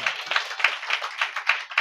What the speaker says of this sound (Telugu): గట్టిగా చప్పట్లు కొట్టాలనిపించట్లేదు ఎవరికైనా?